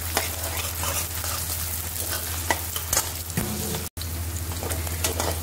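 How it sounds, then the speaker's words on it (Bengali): Two large onions, sliced into long strips, frying in white refined oil, an even, dense sizzle with occasional stirring scrapes, close and steady throughout, with a momentary dropout near the four-second mark. "দুটো বড় পেঁয়াজ লম্বা লম্বা করে কেটে ভেজে নিচ্ছি।"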